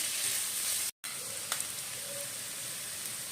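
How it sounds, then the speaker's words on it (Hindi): Onion and green chili fry in a pan with cumin, a soft continuous sizzle and hiss with a brief gap and a faint clink, fairly quiet and close. "ये एक हरी मिर्च काट के रखी है, ये भी डालेंगे। इसे भी हमें हल्का गुलाबी होने तक भूनना है।"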